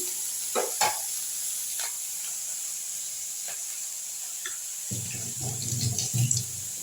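Ground tomato and onion paste frying in oil in a home kitchen pan, a steady hiss with scattered scraping stirs, growing louder and busier near the end.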